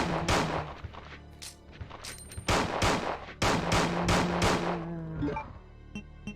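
Gunfire from Leon's weapon in Resident Evil 2, fired from the hip in quick bursts of sharp shots, with a fast reload clatter and short pauses between volleys, no talk over it.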